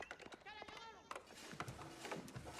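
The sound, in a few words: sheep bleating in video game Age of Empires IV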